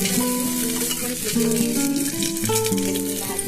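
Onions fry in hot oil for a home-style khichdi made with parboiled rice and two kinds of dal, a continuous soft sizzle under prominent background music with sustained tones.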